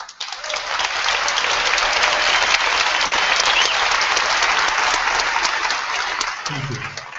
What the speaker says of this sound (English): That was applause if you couldn't hear it